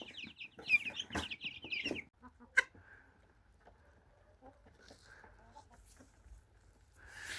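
A large crested chicken clucks loudly several times close by in a mixed flock, then quieter scattered clucks and faint farmyard noises follow.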